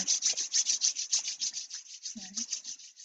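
Two palms rub briskly together during a guided breathing exercise, a quiet, close, rhythmic swishing of about a dozen strokes with a soft thump near the end.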